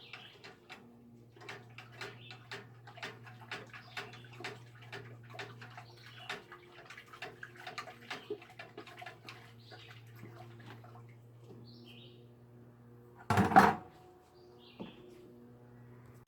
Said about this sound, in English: just running off the wort into my fermenter